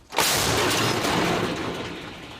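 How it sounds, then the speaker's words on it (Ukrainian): An artillery gun fires in a war setting near Kostiantynivka, Ukraine, giving one sudden heavy blast that then rolls and fades slowly into a long rumbling decay, with no voices over it. "Гармата!"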